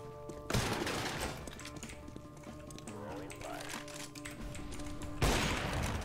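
Gunshots from Counter-Strike: Global Offensive, with two sharp shots at the start and near the end over faint game noise and keyboard clicking, while a player talks.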